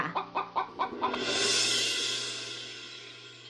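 Cartoon chickens cluck in a quick series of sharp, repeated calls, then a louder flurry of squawking rises and slowly fades, fairly close with no talk over it.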